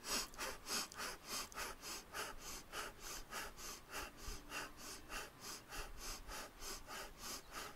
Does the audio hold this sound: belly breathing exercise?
yes